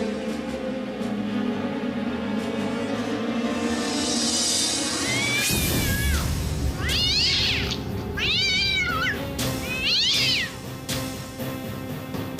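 A cat cries at night in a hushed indoor scene from a Hindi TV drama: several drawn-out, wailing meows ring out close and loud after a sudden thump, over a low background hum.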